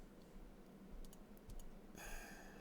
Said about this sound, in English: if you hear me like doing, you know, clicking off to the side, that's because I got my tech deck.